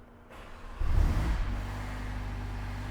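A Mercedes-AMG A45 S engine with a stock air filter cranks briefly on a cold start and catches, then settles into a steady, loud idle rumble close by.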